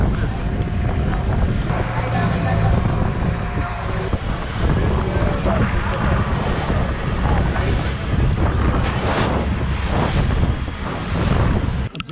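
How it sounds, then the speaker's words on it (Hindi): Strong waves splash and crash around a moving boat on the sea off Krabi, Thailand, a loud continuous wash mixed with heavy wind buffeting the microphone, with no clear talking. "लहरें इतने तेज है कि हम लोग के सारे कपड़े भींग रहे हैं."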